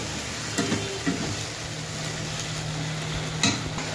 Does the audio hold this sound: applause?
no